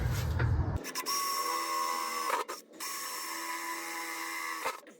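A high-pitched power drill whines steadily while drilling a pilot hole, pausing briefly and starting up again, close and continuous with no talking.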